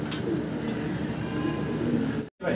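Pigeons cooing in a busy bird market, a constant dense murmur of soft coos and rustling that cuts out abruptly near the end.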